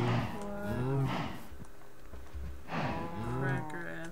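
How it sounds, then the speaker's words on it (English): Cattle in the video game Minecraft moo twice, each call a drawn-out, wavering low bellow standing clearly alone, with a short quiet gap between them. "feed the cattle."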